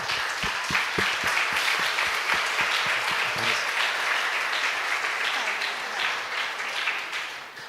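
An audience applauds in a steady, full roar of clapping that holds evenly throughout and eases only slightly at the very end, with a few louder claps near the start.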